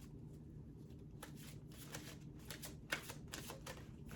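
An oracle card deck, a Doreen Virtue set, shuffled by hand in a quiet room, with a run of soft riffling bursts and taps over a low background hum.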